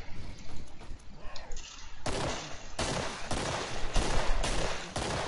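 Gunfire in the video game Killing Floor arrives as a series of loud, sharp shots and bursts, rapid repeated blasts clustering near together, dense and punchy over a few seconds of combat noise.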